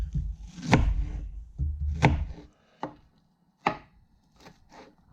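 A knife chops meat on a board to mince it finely, with a handful of separate sharp chopping strikes spaced irregularly, some heavier and others lighter, close by with no talk.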